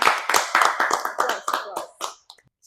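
A small group claps for a guest speaker in a casual student talk setting, a short run of close, distinct handclaps that thins out and stops within about two seconds.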